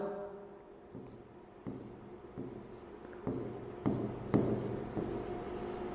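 Chalk or marker strokes on a classroom board during a Class 10 physics lesson on mirrors, a series of distinct scratchy taps and scrapes every half second or so that grow louder toward the end.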